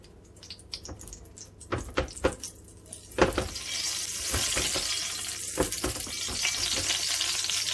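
Hot oil sizzles and spits in a pan as Spam fritters fry, with sharp crackling pops early on building into a steady, loud frying hiss.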